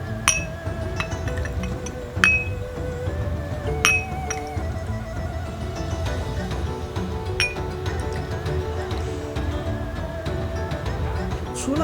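A spoon clinks repeatedly against a glass while stirring winter melon juice with water, sharp irregular taps close by over a low background hum.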